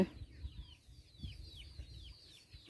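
Chickens cluck in soft, repeated calls at a rural field hut, faint and somewhat distant against quiet outdoor ambience.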